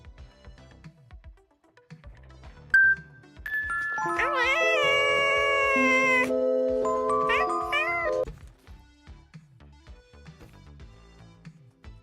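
A wizard cat in the video game Drilling Thunder lets out a long, bright, tonal meow-like call lasting several seconds, with a voice speaking briefly before and after.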